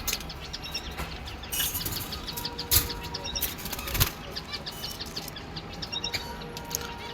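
Silver and grey diamond doves sitting on budgerigar eggs flutter their wings in brief bursts amid soft chirps and faint insect-like twittering, close by and fairly quiet, with no one speaking.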